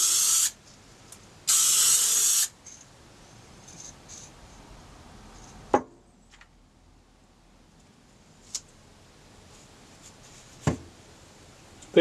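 A spray gun lays down a coat of paint in two loud hissing bursts near the start, followed by quiet handling with a few sharp clicks and knocks.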